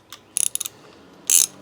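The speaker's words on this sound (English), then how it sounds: "and my ratchet" A ratchet with a 10mm socket, swivel and long extension snugs down the header bolts on a Honda CBR/VFR 800 hybrid motorcycle. Short bursts of crisp clicking are close and quiet, then a longer, louder run of clicks follows, with no talking.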